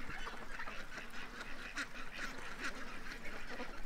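A flock of ducks rushing about give scattered honking quacks, three or four clear calls standing out over a constant bed of outdoor noise.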